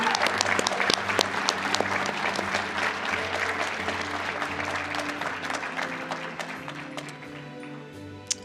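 An audience applauds new PhD graduates at an economics graduation ceremony, with a sustained wash of clapping and a few sharp, distinct claps that slowly thins out toward the end while a low hum runs underneath.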